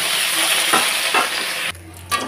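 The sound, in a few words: fish frying in a pan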